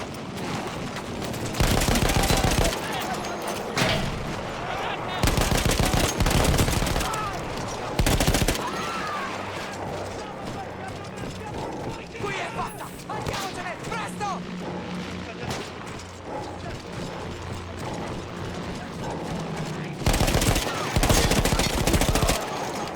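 A mounted machine gun in the Battlefield 1 video game, set on a mountain front against Austro-Hungarian troops, fires in several loud sustained bursts separated by pauses, with battle noise and a faint voice in between.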